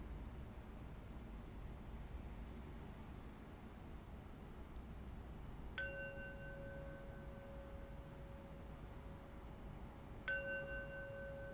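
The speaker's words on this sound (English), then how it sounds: "Now we'll close practice with 3 rings of the bell." A mindfulness bell rings twice against quiet room tone, each strike a clear bright onset followed by a long, sustained ringing tone that fades slowly.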